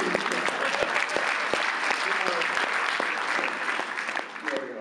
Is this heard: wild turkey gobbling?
no